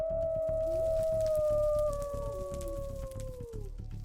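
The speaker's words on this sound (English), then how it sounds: "I then heard a howl from afar" A long, sustained werewolf howl rings out from a distance in a Minecraft game, sliding slowly downward in pitch over several seconds with a second fainter tone beneath it and low ambient rumble underneath.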